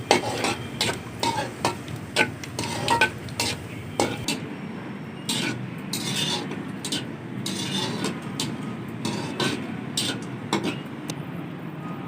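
Bay leaf, cloves, black pepper and cumin lightly fry in a pot as a dense steady sizzle, broken by frequent clinks and scrapes of a spoon against the metal.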